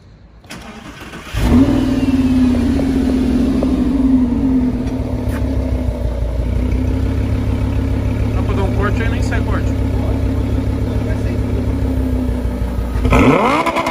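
A Lamborghini V10 on its original exhaust cranks and fires with a loud, close burst, settles into a deep, rumbling idle and then rises once more in a sharp rev right at the end.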